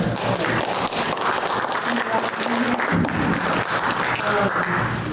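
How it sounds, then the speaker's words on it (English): A room of attendees at a downtown housing development meeting applauds for the facilitators, a dense, steady clapping that fills the space for several seconds with voices murmuring beneath it. "Maybe we could give everybody who's facilitating a round of applause."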